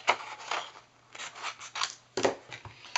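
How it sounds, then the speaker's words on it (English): Scissors snip out a paper piece for a card, with a series of close, crisp cuts and rustles in uneven rhythm and no talking. "Cut that out so I can use the punch."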